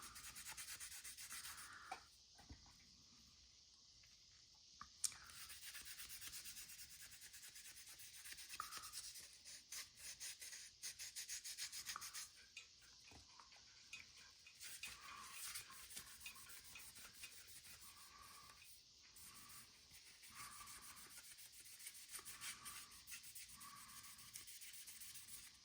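Color sanding of fresh paint on an AMT 2018 Dodge Challenger Demon model car body: a steady, gritty rubbing that is faint and close, with short repeated strokes and brief pauses and no voices.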